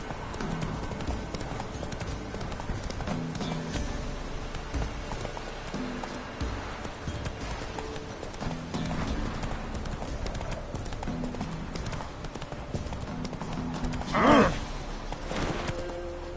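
A horse running with rapid, steady clip-clopping hooves at moderate distance, over a tonal background, with one louder heavy thud near the end.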